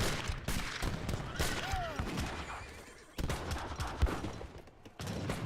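Musket volley fire on a battlefield in the strategy game Age of Empires 3, a dense crackle of shots from Strelitz and musketeer units mixed with horse whinnies and continuous battle noise.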